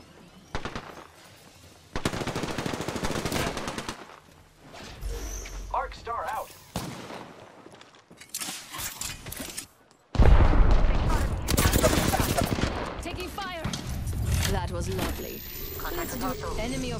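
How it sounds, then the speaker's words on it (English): Apex Legends gunfire rattles in repeated automatic bursts and single shots, loud and close, separated by brief quieter gaps, with game voice lines speaking over parts of the action. "I am taking fire, friends."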